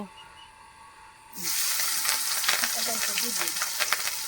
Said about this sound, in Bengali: তেজপাতা একটু নেড়ে চেড়ে নিচ্ছে পটলগুলো দিয়ে দিচ্ছে